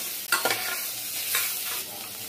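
Turmeric, cumin and chilli powder for a carrot masoor dal fry and get stirred in a pan: a close, continuous sizzle with scraping spoon strokes and brief louder bursts, no voices.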